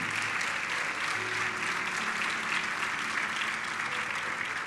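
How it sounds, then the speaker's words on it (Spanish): A church congregation applauds in worship, a dense, even wash of many hands clapping at once, sustained and fairly close, with faint tonal hum underneath and no break in the sound. "Dale un aplauso fuerte al Señor."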